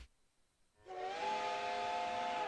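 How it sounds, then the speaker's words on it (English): After a quiet pause, a sharp sustained whistle cuts in as a sound effect in the Code: Realize visual novel, loud and steady, with a breathy hiss running under it for the rest of the moment. "We hear a sharp whistle."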